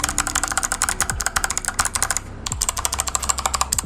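Rapid continuous typing on a RAKK Gears Lam-Ang Pro mechanical keyboard with Kailh White Box switches, bright crisp clicks in quick bursts close up, with a brief pause midway.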